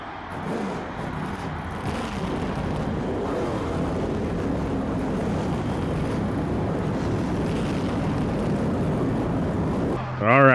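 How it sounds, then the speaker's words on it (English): Race car engines fire up and hold a continuous, loud, droning roar at Daytona in the NASCAR Thunder 04 video game, with a brief sharper burst at the very end. "Gentlemen, start your engines."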